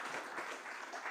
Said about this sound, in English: So this is a big round of applause thing for all of us.